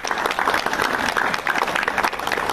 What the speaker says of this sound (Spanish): a quien lo recibimos con un fuerte aplauso